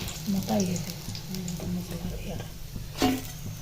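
Bean and tomato chops fry in a pan with a continuous close sizzle and stirring scrapes. A brighter crackle bursts near the end, and voices are faintly audible underneath.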